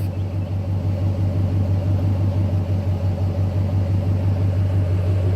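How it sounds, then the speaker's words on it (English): A Dodge Ram truck engine fitted with headers, exhaust cutouts closed, idles with a deep, steady, throbbing rumble, loud and close, unchanging throughout with no one speaking. "The truck sounds like more aggressive. So this is with the headers,"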